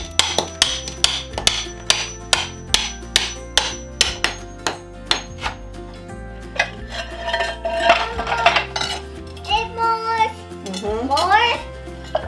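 Sharp metallic strikes of hammers ring out in a steady series during a kitchen renovation, then grow busier and more irregular, with clanking and scraping of tools close by.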